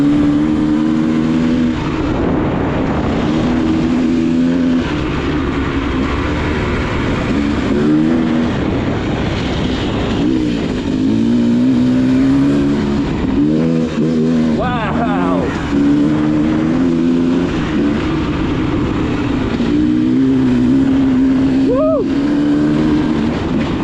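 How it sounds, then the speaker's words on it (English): A 2024 Beta Xtrainer dirt bike engine burbles and rises in short throttle blips as the front wheel lifts, a steady close motor note with repeated revs over the whole stretch. "That front end just lifts so easy. Little bit of throttle, up she goes."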